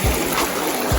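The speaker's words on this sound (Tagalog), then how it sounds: "Medyo malakas yung current" A strong current in a clear, shallow stream in a rural countryside setting: a steady, close rushing and gurgling of water that fills the whole second, with no voices.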